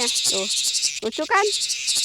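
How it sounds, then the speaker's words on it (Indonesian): A tonggeret cicada gives a loud, continuous high-pitched buzz held close, with people talking over it. "ini nih yang ditambahkan tonggeret atau turaes"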